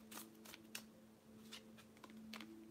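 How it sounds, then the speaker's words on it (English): Oracle card deck being shuffled by hand in a series of quick riffling bursts separated by short pauses, close and moderately quiet over a steady low hum. "I'm gonna go ahead and shuffle again"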